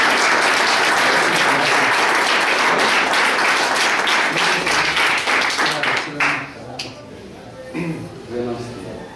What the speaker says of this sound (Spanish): Y un aplauso para todos y para los demás